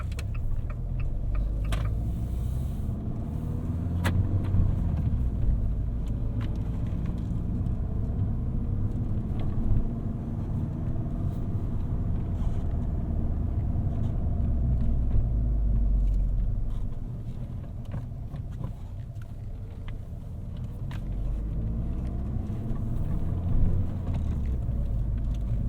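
Interior engine sound of a 2018 Fiat 500 Pop with a manual gearbox pulling away as the clutch is released, a steady low rumble and road drone with brief dips between gear changes.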